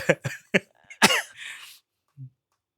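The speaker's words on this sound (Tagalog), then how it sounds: "Inuubo ako." A few sharp coughs in quick succession, then a harsher throat-clearing cough fading out, followed by a faint short sound.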